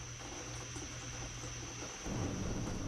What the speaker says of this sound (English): Its thunder came about 17 seconds later and rumbled on for a little while.